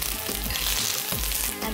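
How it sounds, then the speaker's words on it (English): Diced potatoes with fried brown onion and fresh coriander sizzle in a hot pan, a steady close crackle and hiss through the short moment, with faint stirring. "It sizzles in the hot pan."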